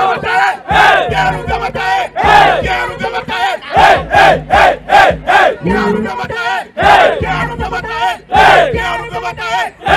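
A crowd at a Brazilian rap battle in Rio de Janeiro cheers and shouts in loud rhythmic bursts, chanting together with repeated surging peaks.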